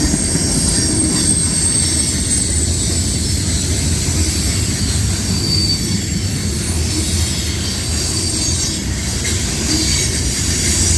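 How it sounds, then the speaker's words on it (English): A long CSX mixed freight train passing at Point of Rocks, Maryland, gives a loud, continuous roar of rolling wagons with a high metallic wheel squeal, sustained and close throughout. "I can see the FRED in the distance, so this is almost the end of the train."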